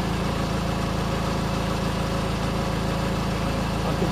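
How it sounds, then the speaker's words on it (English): A car engine idling with the car stationary, a steady, even low rumble that holds constant throughout with no other sounds. "Engine running."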